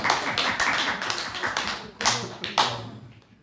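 A church congregation claps during a Sunday worship testimony service, a loose burst of hand claps with a few sharper accents, near and lively, fading toward the end.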